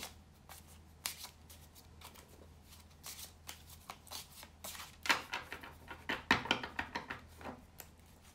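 Tarot cards being shuffled and handled, soft riffling and flicking that starts sparse and quiet, then builds into a busier run of crisp card slaps near the end, with no talking.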